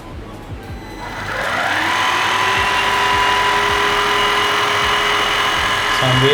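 A Kurumi KV05 vacuum cleaner switches on and runs with a steady motor whine that builds over the first second and then holds loud and constant, its brush spinning, with brief talk at the start.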